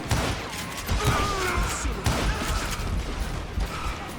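Gunfire in the Western shooter Call of Juarez: Gunslinger, bursts of shots from an enemy hitting a wall, layered with game effects and clattering impacts over a busy, loud mix.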